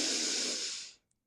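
One long, steady inhale during a yoga session, breathy and close to the mic, lasting about a second before fading into silence.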